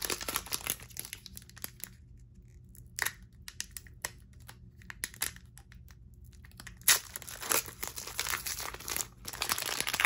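A Pokemon Rebel Clash booster pack is opened with bursts of close crinkling and crumpling foil wrapper, separated by quieter pauses.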